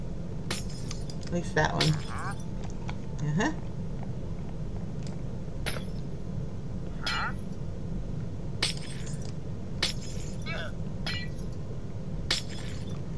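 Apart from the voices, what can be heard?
glass blocks being broken in Minecraft video game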